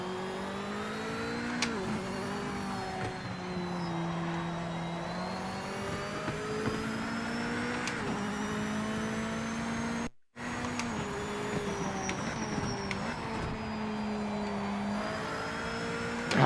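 A race car engine in the game Project Motor Racing holds a steady high drone, its pitch rising and dipping as the car shifts and revs, with one brief cut partway through and no talk.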